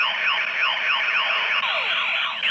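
A shrill electronic sound effect from a Star Trek toy phaser with rapid repeating downward sweeps like a zapping laser, steady and close, shifting pitch partway through as it switches between its two sounds.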